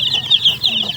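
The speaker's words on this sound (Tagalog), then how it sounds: "Nagbili tayo ng layer guys para yung manok palaging mangingitlog." Laying hens cluck and chatter close by, several soft overlapping calls in a quick, busy stream.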